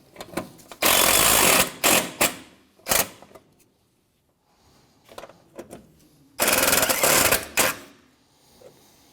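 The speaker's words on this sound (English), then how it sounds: "go ahead and tighten these bolts down" Bumper bolts on a 2007-2013 Mitsubishi Outlander being tightened down by a power tool, with two long loud rattling bursts and several shorter ones, close up, separated by quiet gaps.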